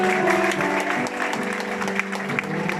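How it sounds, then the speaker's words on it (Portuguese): Church congregation applauds at a gospel service, a steady wash of clapping mixed with sustained music tones throughout, with a voice faintly present underneath. "Vamos dar uma aplauso ao Senhor."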